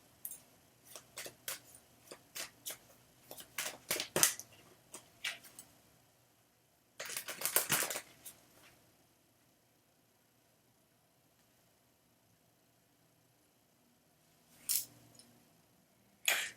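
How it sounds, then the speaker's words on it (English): Tarot cards are shuffled by hand close up in a quiet room, a run of quick crisp riffles and taps, then a short burst of riffling and a later brief flurry, with silent gaps between. "you're going to hear me shuffling"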